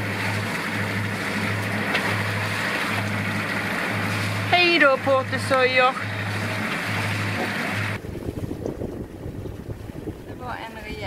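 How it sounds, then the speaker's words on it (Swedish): A large vessel passing near the northeast tip of Mallorca, a steady low engine drone and wind rush that cut out partway through, with a voice speaking over it. "Det var en rejält stor båt."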